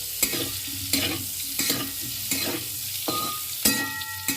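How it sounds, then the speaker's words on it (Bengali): Eggs rubbed with chilli powder, turmeric and salt fry in oil left from frying potatoes, giving a constant hiss. Close utensil scrapes and stirs cut through it at a regular, unhurried pace. "আমি এবার আলু ভাজার সেই তেলের মধ্যেই ডিমগুলোকে ভেজে নিচ্ছি।"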